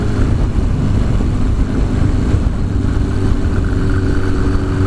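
A Suzuki GS1000 motorcycle engine runs steadily for a few seconds, a close, loud, rough mid-pitched drone with no talking over it.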